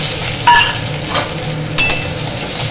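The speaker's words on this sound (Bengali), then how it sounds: "আমগুলো ভেজে নেবো" Mangoes fry with whole cumin and a dried red chilli in a pan, giving a close, steady sizzle with a couple of brief stirring scrapes and clinks.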